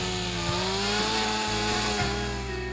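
A chainsaw runs at a steady, loud, close roar as it cuts a ventilation louver into an arched roof, bogging briefly as the blade bites, with no talk over it.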